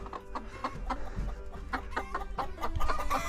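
Hens clucking and murmuring inside a henhouse, several birds close by with irregular overlapping clucks and soft calls throughout, no speech.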